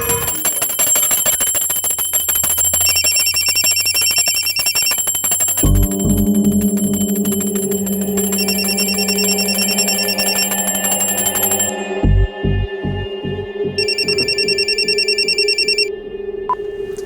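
Telephone bell ringing loudly and close in repeated bright metallic bursts, with a steady electronic tone and periodic beeps layered over it, no speech.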